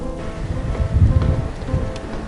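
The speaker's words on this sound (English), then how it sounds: "the rain beat down on them" Steady rain falls on surfaces, a dense continuous patter that swells slightly in the middle, moderately loud and with no voices.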